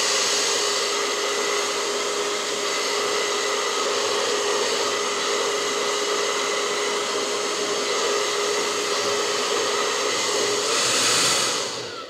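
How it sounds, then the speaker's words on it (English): Hair dryer set to no heat, blowing steadily to dry gelli-printed packing-tape sun catcher transparencies; a loud, continuous airy whoosh with a steady motor whine, running unbroken throughout and cutting off at the very end. "I'm using my hair dryer on a no heat."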